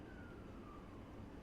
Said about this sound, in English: Look at the ambulance go by.